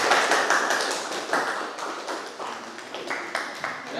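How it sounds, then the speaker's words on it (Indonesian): A small group claps after a classroom discussion presentation, with dense uneven hand claps that continue steadily throughout at moderate loudness. "Tepuk tangan."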